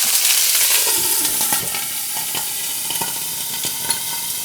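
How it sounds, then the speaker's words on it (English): Loud sizzling and crackling of water splashed into a hot frying pan of gyoza dumplings before covering, fading into a steady frying hiss with scattered pops. "splash the water in the frying pan and then cover the frying pan very quickly"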